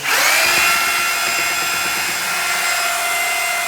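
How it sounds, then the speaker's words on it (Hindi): A power drill mixes tile adhesive bond on a construction site, giving one steady, loud, continuous whine close by with no talking over it. "ये ड्रिल मार लो भी एक बार"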